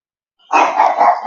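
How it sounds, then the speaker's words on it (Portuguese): A small female dog barks in a short, close burst after a moment of silence, with no talking over it. "a cachorrinha se manifestando"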